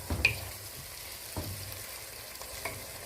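Vegetables including yellow bell pepper frying in a pan, a soft continuous sizzle with a few spaced knocks and scrapes of stirring, nearby and fairly quiet, no talking.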